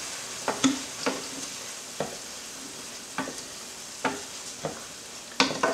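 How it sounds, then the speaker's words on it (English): Risotto is stirred in a pan after hot chicken stock is added, with a soft sizzle underneath and a series of distinct scraping, sloshing strokes of the spoon at an irregular pace, close and fairly quiet. "Give it a stir."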